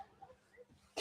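A short, sharp burst of breathy noise at the very end, a stifled sneeze, after a quiet stretch of faint low murmuring at a sheepdog utility championship.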